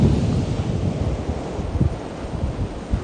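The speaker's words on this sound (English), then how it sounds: "Facing west is a bit more breezy." Wind gusting across the mic on a west-facing stretch of Brighton beach, a loud continuous rumble with uneven buffeting and a faint wash of surf beneath it.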